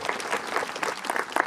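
Audience at a comedy show in Kenya clapping briefly, a dense burst of applause at moderate level with no voices.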